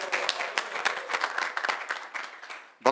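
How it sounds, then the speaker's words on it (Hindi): Audience at a morning devotional lecture in Vrindavan breaks into steady applause welcoming devotees, dense clapping sustained for nearly three seconds before ending with a single louder burst. "तो सब तालियां बजा के इनका स्वागत करें।"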